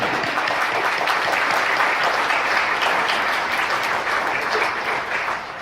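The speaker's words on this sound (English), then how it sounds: "I think that deserves a round of applause within itself, right?" A seminar audience applauds a man married to his teenage sweetheart for 20 years, a steady, dense wash of many hands clapping that holds for several seconds before easing slightly at the end.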